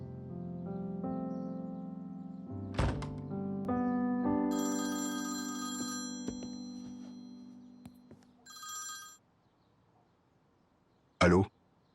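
A telephone rings close by with a steady electronic tone that repeats in a few bursts before stopping. A brief noise follows after a short quiet.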